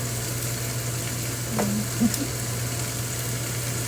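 Longganisa sausage browning in a pan, a steady broadband sizzle running throughout with a couple of brief utensil clinks near the middle, close and moderately loud, no talking.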